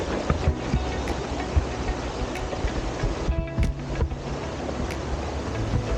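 Sea waves wash in a continuous, broad rush of surf, heard up close and mixed with gusty wind buffeting the microphone.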